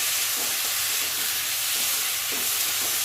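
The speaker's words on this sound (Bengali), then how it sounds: "মশলাটা ভালো করে ভেজে নেব যতক্ষণ না মশলা থেকে আদা রসুনের কাঁচা গন্ধটা যাচ্ছে।" Spice masala with ginger-garlic paste sizzles in oil for a thin mutton curry, a constant loud hiss close by, broken by faint scraping strokes as it is stirred.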